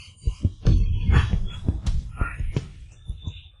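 Fast heartbeat in a dramatic scene, heard as a series of muffled low thumps in quick, slightly uneven succession, fairly close, with faint breathy noise between beats.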